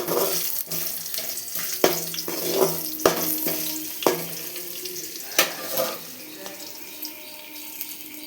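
Grated coconut being stirred into a frying tempering for coconut rice, with repeated scraping stirs and clinks over a steady low sizzle, close and moderately loud, no talking.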